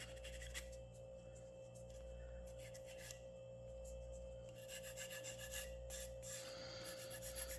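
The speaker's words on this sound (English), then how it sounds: "Just using my sanding sticks here to do this." Sanding sticks rasp back and forth over an annealed metal part of a Muscongus Bay lobster smack model boat, a steady close scratching broken into short strokes with brief pauses, alone without talk.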